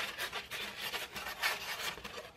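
A paintbrush dry-brushed across a piece of foam to wipe off excess light gray paint while detailing a tombstone model, giving soft repeated scrubbing strokes, quiet and close, with no talk.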